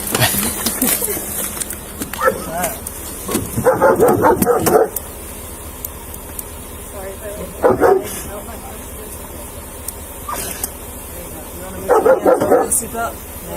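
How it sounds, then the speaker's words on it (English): A friendly dog in the back of a police car barks in several short bursts of yips and woofs spread over a few seconds, loud and close, with people talking in between. "you can be sad back here with the dog, and she'll bark at you a little bit."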